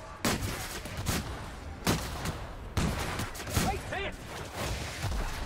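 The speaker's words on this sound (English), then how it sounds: "No wonder my shotgun did no damage at all." Shotgun blasts from a first-person shooter set on an alien frontier world, several heavy booming shots spaced a second or so apart, loud and close, with faint game effects between them.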